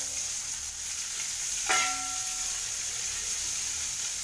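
Beaten rice flakes roast in ghee with a steady sizzling and frying hiss, and a brief stir or scrape clatters partway through.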